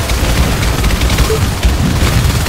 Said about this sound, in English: Everybody, grenades to the hive